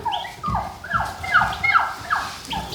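A turkey gobbles in a rapid series of rattling, warbling calls, close by, with other birds faintly in the background.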